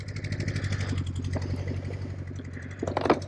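A motorcycle engine runs rough and misfires after a spark plug came out, its uneven chugging idle close and loud with a sputtering burst near the end.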